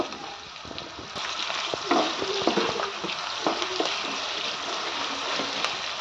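Chopped onions fry and get stirred in a pot for an Indian mutton and potato curry, a continuous sizzle with irregular scraping and clacking spoon strokes close by, no speech.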